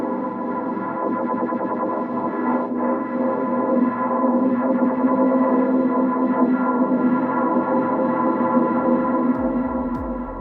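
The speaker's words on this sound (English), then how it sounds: "create your own evolving drone sound like you heard just there" A sustained, shimmering reverb drone from the Tides algorithm of Ableton Live's Hybrid Reverb swells and slowly evolves, thick with layered tones and faint echoing textures, alone without any voices.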